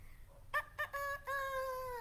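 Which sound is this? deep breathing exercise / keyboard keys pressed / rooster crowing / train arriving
rooster crowing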